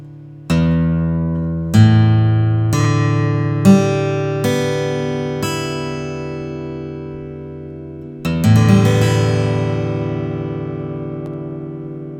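Single notes on a Yamaha GH351B acoustic guitar are plucked one at a time, each ringing out with a long fading tail, followed by a full strummed chord left to sustain.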